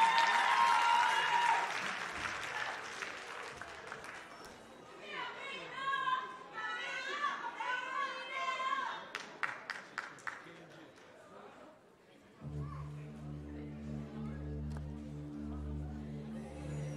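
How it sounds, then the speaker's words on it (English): Applause and cheering from a talent show audience at Chester's Got Talent, greeting singer Amina Webb; clapping and chatter swell loud at the start, scattered claps and voices follow, then a steady musical backing track enters near the end. "give a round of applause for Amina"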